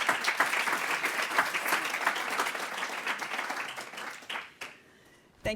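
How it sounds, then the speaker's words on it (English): An audience applauds a keynote speaker being welcomed to the stage at a sustainability event, dense sustained clapping for about four seconds before tapering off, with no talk. "Please give her a round of applause."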